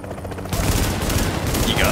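Sustained machine gun fire in The Division's Dark Zone during co-op play: a rapid, dense rattle of shots that starts abruptly and keeps going, loud and close, with a voice talking over it.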